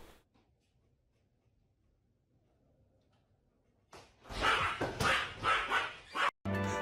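A small dog barks and yips in a quick run of sharp, close, loud barks after a near-silent stretch, ending with a brief pause and a final yap.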